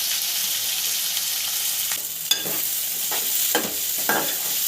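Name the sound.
finely chopped onion and cumin frying in oil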